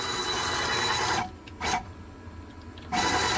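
A CNC mill spindle traverses in rapid feed mode while machining an LED sign: a loud, steady mechanical whine and hum drops out for a moment, gives a short burst, then runs on at full level.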